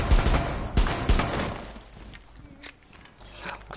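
Gunfire in Rainbow Six Siege, a rapid burst of loud close shots in the first seconds, followed by quieter scattered shots and movement noises.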